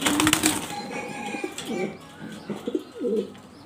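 German Beauty Homer pigeons of Andalusian colour cooing softly nearby, a few low rolling coos with faint rustling and bird chatter in the background.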